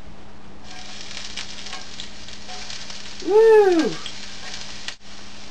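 Red onion sizzling in a hot pan gives a steady broadband crackle throughout. A voice briefly whoops over it partway through, and a short clatter comes near the end.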